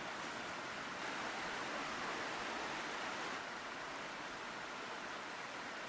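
Steady broadband rushing of flowing water, constant and fairly close, like a stream running over rocks, with no voices.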